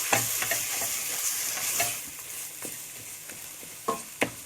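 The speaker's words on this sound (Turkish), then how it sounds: "Ve sürekli karıştırıyoruz. Hızlı hızlı." A spoon stirs flour halva in a pan over low heat, giving quick, repeated scraping strokes with a soft sizzle underneath and a few sharper clinks near the end, close and alone.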